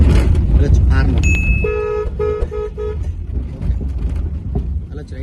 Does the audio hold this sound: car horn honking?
yes